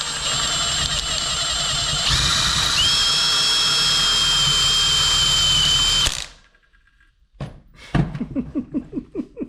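A Ford Mustang engine revving with a failed alternator, giving a loud sustained high whine with a rising whistling tone that cuts out abruptly, followed after a pause by a run of rhythmic, pulsing engine bursts.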